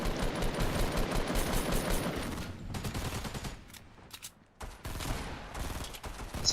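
Rapid bursts of automatic gunfire from Fortnite, a dense fusillade of overlapping shots that thins out with short gaps before firing resumes.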